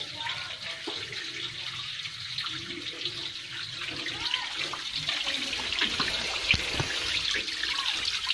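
Water gushing steadily out of a water pump motor being repaired, a continuous splashing flow with faint background voices.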